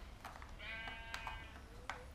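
Video game sheep give a single quavering bleat amid quiet ambient hiss, with sharp clicks and taps before and after it, low in level and moderately close.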